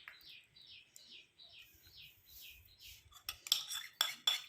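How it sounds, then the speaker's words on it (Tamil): A spoon stirs a paste of turmeric and shampoo in a bowl, clinking and scraping in a quick burst of close metallic taps toward the end. Faint birds chirp repeatedly in the background earlier. "இப்போ இது 3யுமே நல்லா வந்து கலந்து விட்டுக்கணும். ஒன்றோட ஒன்று நல்லா மிக்ஸ் ஆகணும்."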